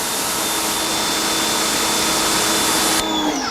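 Chemical Guys Pro Flow PM2000 electric pressure washer spraying through a 15 degree nozzle at about 1200 PSI, a loud steady broadband hiss that holds evenly for about three seconds, then cuts off abruptly and leaves a quieter tail.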